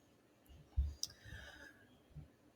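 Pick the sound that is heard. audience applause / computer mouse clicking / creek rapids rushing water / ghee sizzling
computer mouse clicking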